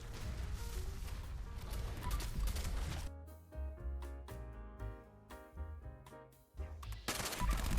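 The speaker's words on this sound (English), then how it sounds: "with some pump action shotgun gameplay in the background for you to enjoy" Pump-action shotgun fire in Fallout 76 gameplay: repeated loud, sharp blasts with metallic pump clacks in an irregular rhythm, set against a busy game soundscape.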